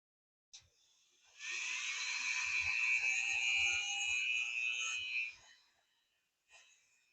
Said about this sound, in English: I like to use the small sanding drum